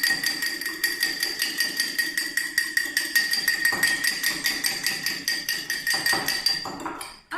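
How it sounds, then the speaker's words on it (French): A fork beating an egg in a bowl, rapid steady clicking and tapping strokes against the dish, close and continuous with a brief pause near the end. "Avec la fourchette, on vient battre notre œuf."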